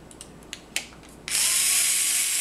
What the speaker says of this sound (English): The same Torx bit will take those out too.